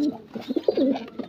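Pigeons in a loft give soft, close cooing calls, a few low rolling coos in quick succession over a quiet background.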